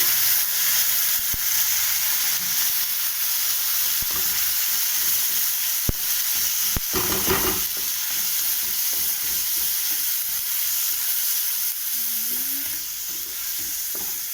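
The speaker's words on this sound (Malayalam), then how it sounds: "ഇനി ഇതിലേക്ക് അരച്ച് വച്ചിരിക്കുന്ന നമ്മുടെ മിശ്രിതം ഇതിലേക്ക് ഒഴിച്ച് കൊടുക്കുന്നു" A ground spice paste poured into a hot pan sends up a loud, continuous frying sizzle and hiss, steady throughout with occasional stirring scrapes and clinks.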